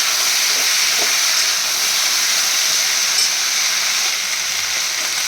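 Vegetables stir-fry in oil in a kadai, producing a loud, continuous hissing sizzle that stays close and even, with only faint stirring knocks beneath it.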